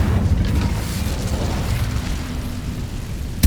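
Incendio fire spell cast in Hogwarts Legacy, a sustained roaring, rumbling burst of flame that stays loud and dense for several seconds, with no talking over it.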